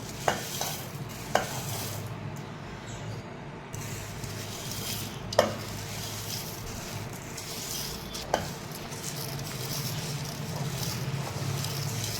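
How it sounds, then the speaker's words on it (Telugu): Curry leaves spluttering in hot oil while making nalla karam, a steady crackling sizzle close by with a few sharp pops and stirring clicks scattered through, no voices. "కరివేపాకు చూడండి ఎట్లా పొడవుతుందో ఈ విధంగా పొడవాలి"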